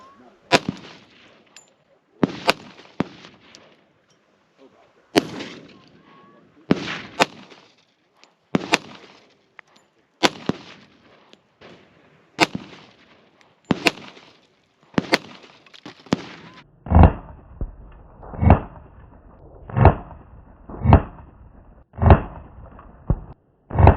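Shots from an Argentine military 1911 pistol in .45 ACP fired at a concrete block: about seventeen sharp, loud reports, spaced unevenly over the first sixteen seconds, then six heavier, booming shots in a steady rhythm, with no talk.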